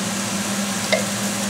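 Meat masala stirs in a hot frying pan for a jackfruit and meat curry, with a steady loud sizzle and a single brief scrape of the spoon partway through.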